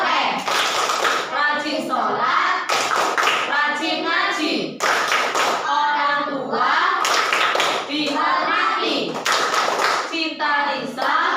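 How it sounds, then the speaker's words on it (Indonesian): Children in a classroom perform the tepuk anak soleh clapping chant, with sharp unison hand claps alternating with their chanted lines in a lively, regular rhythm. "mari kita bersama-sama tepuk anak soleh"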